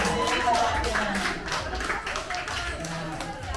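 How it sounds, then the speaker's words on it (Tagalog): Family members at a reunion gathering clap together in a brisk, dense burst, with voices mixed in under the clapping. "Palakpak nga sa angka ni Ate Norme sa Chalini."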